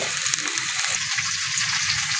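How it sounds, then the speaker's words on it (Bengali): Bottle gourd stalks and potatoes sizzle steadily in hot oil in a pan, a close, continuous bright frying hiss with faint stirring underneath. "আলুগুলো হালকা করে ভাজা হয়ে গেছে ওই লাউ ডাঁটাগুলো দিয়ে দিচ্ছি"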